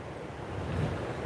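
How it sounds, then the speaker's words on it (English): A steady, broadband rush of flowing river water in Kingston after Hurricane Melissa continues without a break, with some wind noise and no voices. "you should be able to hear the river"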